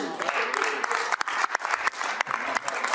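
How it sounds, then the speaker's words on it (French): Dense, steady applause fills the Quebec National Assembly after the budget speech, many hands clapping continuously at close range with voices mixed in. "Il n'était pas trop sûr qu'à applaudir."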